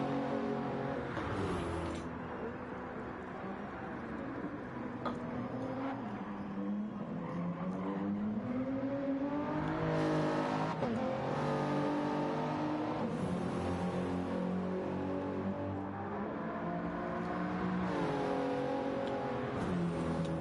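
A BMW race car accelerating hard through the Monza circuit during an 8-hour endurance race, its engine note climbing and falling in repeated gear-change sweeps, loud and continuous throughout.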